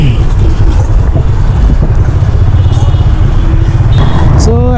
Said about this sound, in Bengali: রাস্তায় অনেক ট্রাফিক দেখা যাইতেছে